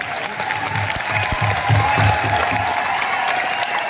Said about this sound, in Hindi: ऐसे शख्सियत के लिए जोरदार तालियां होनी चाहिए